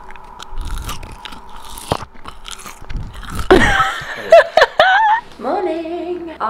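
Someone bites into and eats a Pieminister pie close to the microphone, with crisp crunching bites and wet chewing, mixed with soft chuckles and background voices, building to louder crunches toward the end.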